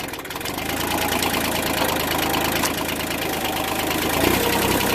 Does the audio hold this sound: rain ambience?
no